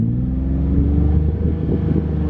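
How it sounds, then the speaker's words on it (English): A drift car pulling away in first gear, a loud close engine drone with a low steady rumble that rises slightly as it accelerates. "Just give it a little bit of gas and then go for it."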